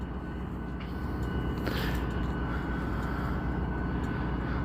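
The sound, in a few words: train going by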